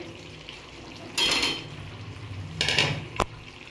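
Cut raw potatoes go into a pot of chicken curry: two short clattering bursts of pieces dropping in, then a sharp metallic tap of a utensil, over a low background hiss.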